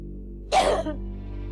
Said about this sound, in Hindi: खांस खांस कर